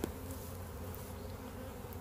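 Honeybees buzz around an open hive box during an inspection, a dense, steady droning hum with individual bees passing close to the microphone.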